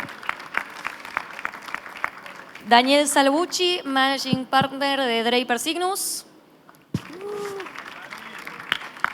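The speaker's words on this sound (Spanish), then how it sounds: "Aplauso para Eduardo." Audience applause at a business event rises between stretches of a man announcing names and titles, with cheering voices and whistles mixed into the clapping, before it fades back under further talk.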